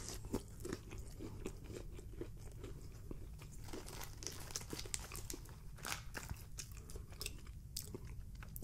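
Crunching and chewing of well-done In-N-Out fries, close to the mic, with dense, steady bites and crackly mastication that keep going without pause and with no talking.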